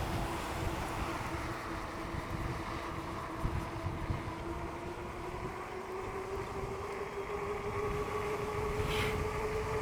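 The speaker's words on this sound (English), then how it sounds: "Strong wind, probably 20 miles per hour, 25." Strong wind of about 20 to 25 mph buffets a rider on a downhill eBike (Wired Cruiser) ride, a steady close roaring rumble with a faint rising motor whine underneath and no voice.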